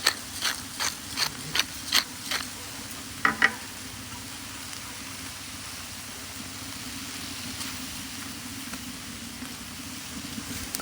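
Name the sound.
peppers and onions frying in a discada on a rocket stove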